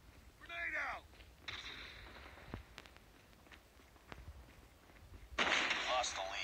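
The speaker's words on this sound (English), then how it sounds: "Use lethal grenade to attack." Gunfire and a grenade blast in the mobile shooter game Call of Duty Mobile, with sharp scattered shots, a louder burst of noise near the end and game voice callouts between them.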